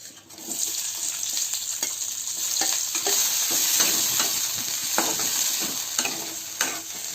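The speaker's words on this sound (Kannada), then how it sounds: "ಇದನ್ನೆಲ್ಲ ಚೆನ್ನಾಗಿ ಫ್ರೈ ಮಾಡ್ಕೋಬೇಕು" Onion and garlic paste frying in oil, with steady close sizzling and repeated clicking scrapes of a spoon stirring through the pan, and no talking.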